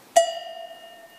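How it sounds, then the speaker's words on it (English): Single cowbell sample struck once, a bright metallic clank with a ringing tone that decays over about a second, alone and fairly clear. "let's choose a cowbell sound."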